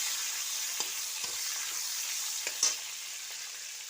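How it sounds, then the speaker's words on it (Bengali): Chopped onion and chili frying in a pan for a soybean and potato curry, a steady close sizzle with a few soft stirring clicks and scrapes, no voices. "এখন আমি এই যে পেঁয়াজ কুচি আর লঙ্কা কুচি দিয়ে দিলাম।"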